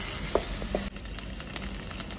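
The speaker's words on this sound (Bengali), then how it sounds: "পেঁয়াজ ভাজছি, আদা রসুন সব দেওয়া হয়ে গেছে।" Onions frying with ginger and garlic in a pan for dal puri filling, a steady close hiss of sizzling oil with a couple of soft stirring knocks.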